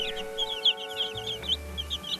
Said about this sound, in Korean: 직접 부화시킨 병아리들. 하루가 다르게 식구들이 늘어납니다.